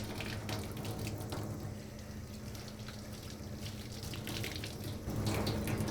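Water running steadily from a tap in a basement laundry room while something is rinsed, with a constant splashing flow and low background hum.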